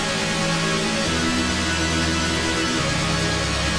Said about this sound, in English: All of our chords layered together.